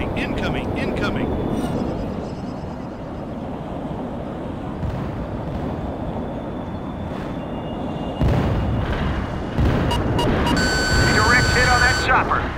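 Video game World in Conflict battle, with rumbling explosions and booms hitting a chopper amid continuous low combat noise, mixed with radio chatter and interface beeps.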